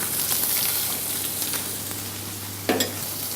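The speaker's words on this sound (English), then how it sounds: "And the prawns in a frying pan, season them first." Tiger prawns sizzling in a frying pan after seasoning, a steady close hiss and crackle with a brief louder burst near the end as they are stirred or moved, no talking.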